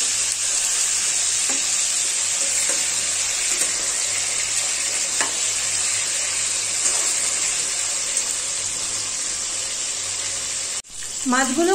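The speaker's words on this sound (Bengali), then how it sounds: "এপিট ওপিট করে মাছগুলোকে ভেজে নিতে হবে।" Chital fish pieces, rubbed with salt and turmeric, fry in hot mustard oil with a loud, continuous close sizzle and occasional stirring clinks; near the end the sizzle dips briefly and a voice begins.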